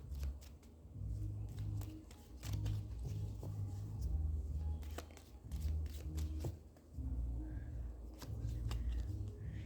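A card is drawn from a deck of cards: soft papery shuffling and light tapping clicks over a steady low hum, close by, with no talking.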